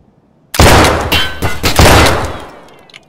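Loud, close gunfire in Escape from Tarkov, with a sudden burst of several rapid shots cracking out after a brief quiet, then ringing and fading away.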